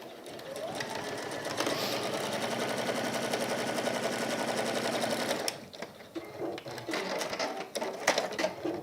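A sewing machine bastes stitches on a fabric keyring pouch, running at a steady fast whir for about five seconds, then stopping and giving way to shorter bursts and handling noises, with a voice faintly underneath.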